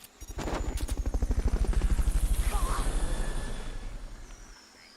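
A helicopter in the Metal Gear Solid: Peace Walker video game thumps loudly and steadily, its rotor beating fast and even for several seconds before fading away at the end.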